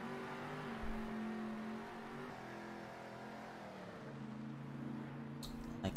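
Monster trucks race in circles in the video game Monster Jam Steel Titans, their engines a steady droning roar that shifts pitch as they rev, quiet and continuous with a brief click near the end.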